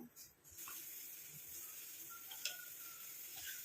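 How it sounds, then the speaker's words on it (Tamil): Steady bubbling hiss of liquid boiling in a pan, with a few soft clinks, close and continuous. "இப்போ பாருங்கள் நல்லா கொதிக்க ஆரம்பிக்குது."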